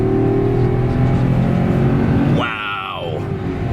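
A 2009 Mercedes-Benz CLS 550 with its 5.5 V8 revs hard under wheel spin, a loud steady engine roar that dips briefly as the pitch climbs through a gear change.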